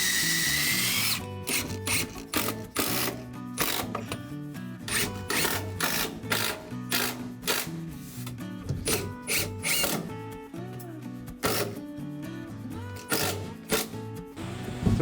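A power driver drives screws into a tatami-covered counter in a new-build Japanese room, its motor whining in repeated short, loud bursts with brief pauses between them.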